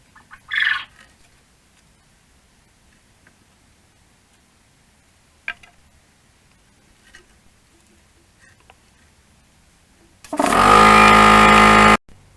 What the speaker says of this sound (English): the air compressor finally shut off